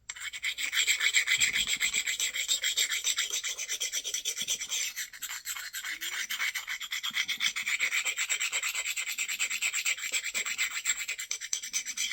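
Continuous dry rasping scrape of a smooth abrading stone rubbed steadily across a surface, close and fairly loud, with a fine gritty texture throughout.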